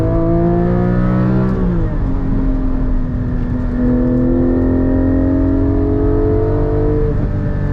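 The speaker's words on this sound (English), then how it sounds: "Auto rev matching, it's beautiful" A Porsche GT4 with a manual gearbox revs hard from the cabin, its engine note sweeping up and dropping with sharp throttle blips as auto rev matching smooths each downshift, loud and continuous throughout.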